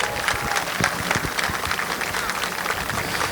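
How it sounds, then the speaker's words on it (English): A speedway crowd at a race-night opening ceremony claps and cheers in a loud, dense, continuous burst of applause with individual sharp claps standing out nearby. "How about a big round of applause for them and our frontline workers"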